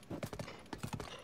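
Horse hooves clip-clop in a steady, uneven trot through the snow in Zelda: Breath of the Wild, a run of soft, close thuds alone with no talk.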